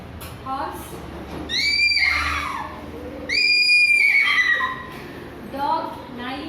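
A person mimics a horse's whinny during a classroom animal mimicry activity, two loud, high, wavering neighs with quieter voice sounds before and after.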